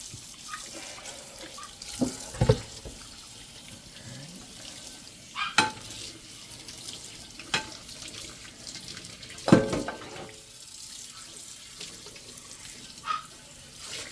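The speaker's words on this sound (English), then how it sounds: "let's go ahead and rinse off all this stuff" Scrub Daddy and Scrub Mommy sponges and dishes are rinsed under a running kitchen sink tap. A steady flow of water splashes throughout, broken by a few sharp clunks and knocks of items against the sink.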